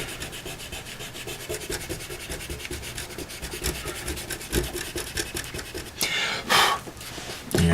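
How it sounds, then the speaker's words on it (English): An eraser rubs back and forth on a paper drawing of a Celtic Pictish wolf pattern, a close, continuous scratchy rasp with brief louder strokes near the end. "Erase it a little bit, but just leave most of it"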